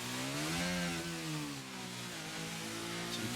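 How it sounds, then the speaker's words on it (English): Race car engine in a racing video game at Miami International Autodrome, a high whining onboard engine revving up and down through gear changes, close and continuous with no voices. "you can hear the amount of revs going into those wheels"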